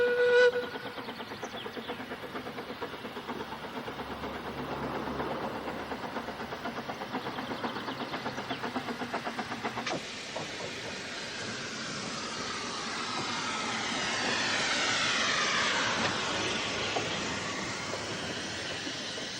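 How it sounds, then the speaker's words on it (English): A scenic railway train in North Wales, running toward Minffordd, rumbles along the rails with rhythmic wheel clatter, then a shift to a louder rushing, squealing run as it picks up. "We now return to the Scenic Railway for a short trip to Minford"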